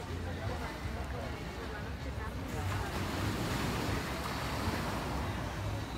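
Steady ocean surf rolls onto a Caribbean beach, a continuous broad wash of waves with wind buffeting the microphone, moderately loud and unbroken throughout.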